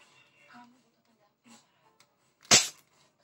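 A 2020 airsoft Desert Eagle BB pistol fires its first shot at one metre range, a single sharp loud crack near the end after quiet handling noises and faint talk.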